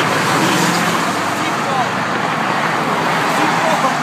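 Steady roar of freeway traffic rushing past a cyclist riding along the 22 West freeway, loud and continuous with wind buffeting, while people shout over it.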